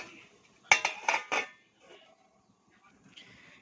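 A metal plate set down as a lid over a pot of cooking rice, a cluster of bright clanks and rattles lasting about a second, then near silence with faint handling noise.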